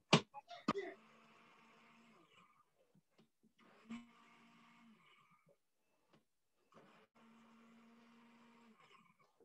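An immersion blender pureeing a vegetarian Thanksgiving dish, heard as several separate whirring bursts of motor hum with faint clatter at the start, soft and close with pauses of quiet between runs.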